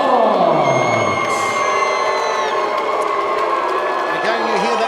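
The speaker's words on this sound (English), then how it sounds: "Boos, jeers, and applause for Fallon Fox." A divided fight crowd at a female featherweight tournament bout reacts loudly and continuously, a dense roar of mixed boos, jeers and applause, with an announcer's voice and whistles cutting through.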